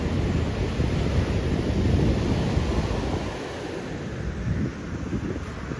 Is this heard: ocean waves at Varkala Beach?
yes